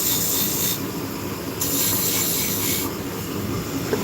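A V-shaped beading tool cutting into wood spinning on a lathe, giving a steady, close scraping rasp with faint high hiss that swells and dips in a few passes, no talk.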